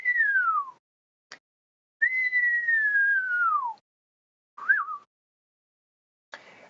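A person whistles an imitation of a common starling's song: a series of high, sliding notes, long descending glides alternating with short chirps and brief clicks.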